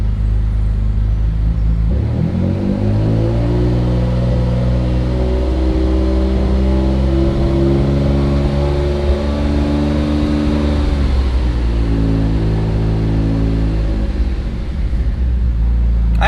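A Mitsubishi 3000GT VR4 with the twin turbo 6G72TT V6 starts and settles into a loud, steady idle close by, its deep rumble continuous with a slight waver in pitch and no voices.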